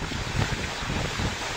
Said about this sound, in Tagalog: Ibinuhos muli yan ngayong hapon na sinabayan na naman ng malakas na hangin.